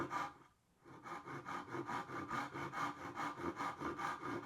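A handsaw cuts through the end grain of a wooden board for a bug house, with steady rhythmic back-and-forth rasping strokes after a brief pause at the start. The sawing is close and even, and no one talks.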